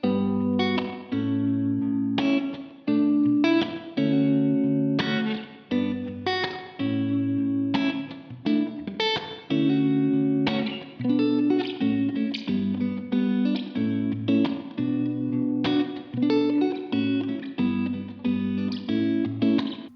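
Clean electric guitar, a Gibson Les Paul Supreme on its mini humbucker pickup, strums steady chords with a wavering, pulsing tremolo shimmer and a roomy reverb tail, playing continuously and fairly loud on its own.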